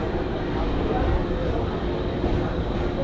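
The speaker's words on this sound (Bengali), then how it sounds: "আমাদের ট্রেন শিয়ালদা লক্ষ্মীকান্তপুর লোকাল শিয়ালদা থেকে ছাড়লো" Inside a Sealdah–Lakshmikantapur local train pulling out and running, a continuous low rumble of wheels and carriage fills the scene, with faint indistinct voices mixed into the noise.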